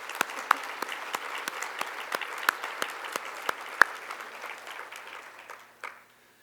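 An audience claps in welcome for international visitors at a library conference, steady applause with a few sharp, prominent claps close by, lasting several seconds before fading out.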